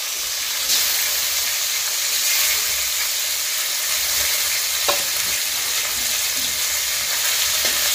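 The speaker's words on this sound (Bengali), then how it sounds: "এখন বাকি মাছগুলি ভাজা হইতেছে" Rui fish pieces sizzle steadily in hot oil in a pan, a dense continuous frying hiss with occasional pops and crackles, close and alone without talk.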